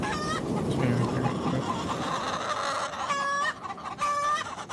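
Chickens cluck and squawk in Call of Duty Warzone Search and Destroy, repeated bursts of clucking over a dense game background, with a louder cluster near the end.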